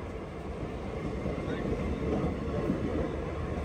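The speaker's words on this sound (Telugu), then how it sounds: "మన ట్రైన్ ని ఒక ప్యాసింజర్ ట్రైన్ అయితే ఓవర్టేక్ చేస్తుంది" A passenger train overtaking at a station on a Humsafar Express journey, heard as a steady, loud rumble of passing rail cars and wheels that continues throughout.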